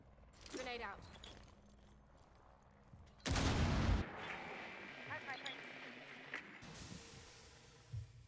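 A loud grenade blast bursts through Apex Legends gunfire during a competitive esports grand final, a sudden sharp roar lasting under a second, with scattered shots before and after and a commentator talking throughout.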